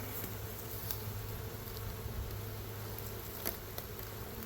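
Honey bees buzz around an open beehive: a faint, steady, low hum holds throughout with a few soft ticks, and no talk is heard.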